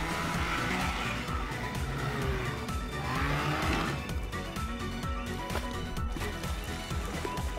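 Engine and driving noise from a speedboat in the destruction sandbox game Teardown, a loud continuous motor drone with shifting pitch and some scraping, steady throughout with no voices.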